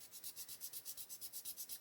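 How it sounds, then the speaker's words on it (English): A coarse white sanding stick rubs flat across a plastic model part to remove an ejector pin mark, a quick regular scratchy back-and-forth stroke repeating about eight times per second, close and faint. "Come in with a sanding stick."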